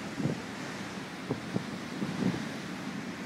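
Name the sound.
strong wind at sea, force 8 Beaufort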